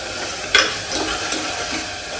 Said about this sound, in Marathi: आता टमाट्याला ते एकदम सॉफ्ट करते आणि मग आपला सर्व मसाले टाकून घेते.